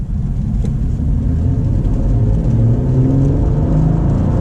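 A 2022 Cadillac CT4-V Blackwing engine with manual transmission rumbles low and steady, its pitch rising gradually as it accelerates, close and loud with no voices.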